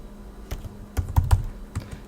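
Several close keystrokes on a computer keyboard as a terminal command is entered on Kali Linux, sparse clicks in a short irregular burst, with no talking.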